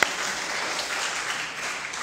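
A church congregation applauds, a steady, fairly dense patter of many hands clapping that holds evenly throughout.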